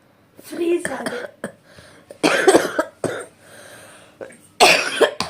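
A person coughs in several harsh bursts, loud and close, with a throat-clearing sound among them and quiet pauses between the fits.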